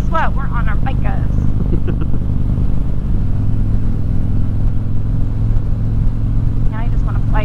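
Motorcycles ride along a road in New Mexico, a constant loud low engine rumble and wind roar with people talking over it at the start and end.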